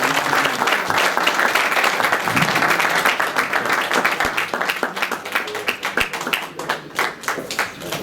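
Applause from the room at a boxing press conference in Brooklyn, a dense wash of many hands clapping that thins into scattered individual claps toward the end.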